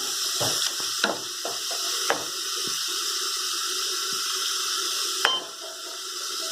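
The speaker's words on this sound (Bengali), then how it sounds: "মশলা ধোয়া জলটা দিয়ে দিলাম।" Water from washing spices is poured into a hot pan of oil with turmeric and sugar while cooking rohu fish roe bhuna, giving a steady hiss and sizzle broken by a few sharp clinks and knocks.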